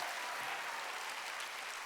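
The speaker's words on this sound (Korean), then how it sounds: "빨리 박수 치라고" Church congregation clapping during a Sunday worship service, a steady, fairly faint wash of applause that runs evenly through the whole moment without any voices.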